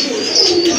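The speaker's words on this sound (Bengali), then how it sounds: "বিগ সাইজের এক জোড়া মিলি কবুতর।" A pair of big Mili pigeons gives a single short, close coo that rises slightly and ends abruptly.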